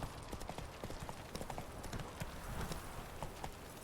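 Roach the horse trots in The Witcher 3, steady clip-clop hoofbeats running continuously up close, with no talking over them.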